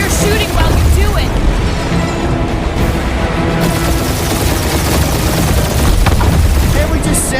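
Dense, continuous gunfire and booming blasts fill a combat scene in Marvel's Guardians of the Galaxy video game, loud and sustained throughout with no clear breaks.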